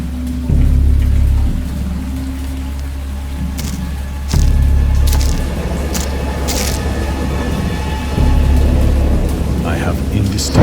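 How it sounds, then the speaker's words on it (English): Steady rain with low rolling thunder rumbles in the horror game Dagon, the storm loud and continuous with several heavier swells of thunder across the stretch. "I have indistinct recollections of a great storm sometime after I reached the boat"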